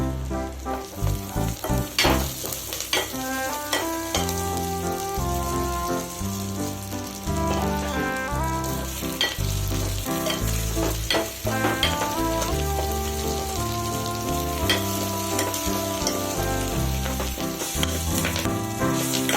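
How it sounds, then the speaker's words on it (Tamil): Steady sizzling and crackling of drumstick leaves being sautéed in a hot pan, continuous and close, with music playing in the background. "அப்போ முருங்கை கீரையை போட்டு நல்லா வதக்கிக்கிங்க"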